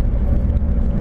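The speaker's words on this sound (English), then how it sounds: "Big truck, making a turn." A big truck making a turn in traffic, its low engine rumble and road noise steady and fairly loud throughout a brief moment, heard from inside a passing car.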